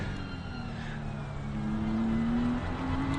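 A BMW race car engine drones steadily in a racing video game set at Indianapolis, a continuous mid-loud hum whose pitch climbs slowly, dips briefly, then rises again.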